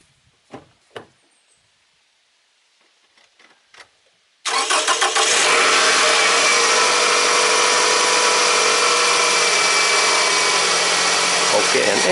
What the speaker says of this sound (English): Okay, and engine is starting.